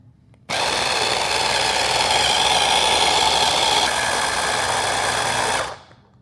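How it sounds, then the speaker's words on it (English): A blender whirs steadily for about five seconds, loud and close, blending basil pesto with olive oil, then cuts off and spins down. "Let's blend."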